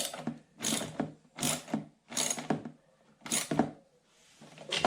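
Ratchet tightening stabilizer bar bolts on a Stamina cardio exercise bike, five or six rhythmic bursts of rapid clicking, close and fairly clear with short pauses between.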